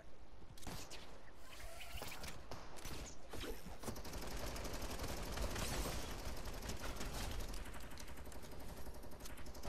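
Video game gunfire rattles in dense, rapid bursts that overlap into near-continuous shooting at a moderate distance, with little pause through the stretch.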